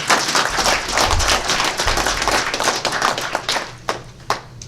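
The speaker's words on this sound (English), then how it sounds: "Please give him a round of applause." Audience applause at a Tinubu Presidential Forum diaspora gathering in Chicago: steady, dense clapping fills the room throughout, thinning into a few separate claps near the end.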